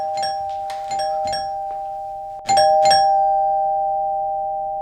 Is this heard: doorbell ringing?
yes